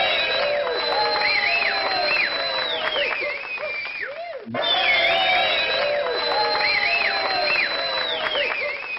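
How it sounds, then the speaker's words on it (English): Crowd cheering played back over a livestream, a steady wash of many voices with whistles and shouts, loud throughout with a brief dip midway before it swells again. "If you can hear the crowd, let me know."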